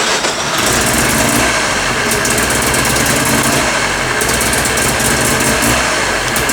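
A Mazda RX-7 rotary engine idles roughly and loses RPM, a loud, close, continuous buzzing drone with slight dips in tone.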